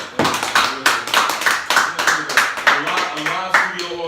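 A live studio audience at a comedy show bursts into loud, sustained applause, dense rapid clapping close and continuous throughout.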